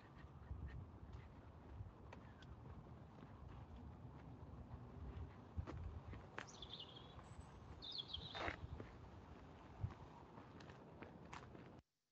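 Birds chirp and twitter faintly in the distance over steady outdoor background noise, with a few soft footsteps shuffling nearby.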